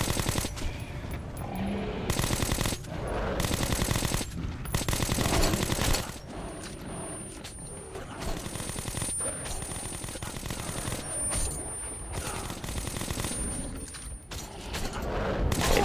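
Long sustained bursts of automatic gunfire in Metro: Last Light rattle loudly in repeated volleys separated by brief pauses, with mechanical clatter between bursts.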